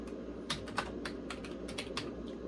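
Keys clack in a quick, uneven run on a vintage IBM PC/XT keyboard, a dozen or so fairly muted close presses with no talking.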